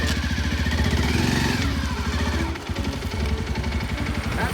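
A motorcycle engine idles and putters steadily up close, a low throbbing rumble with a brief dip partway through before settling back.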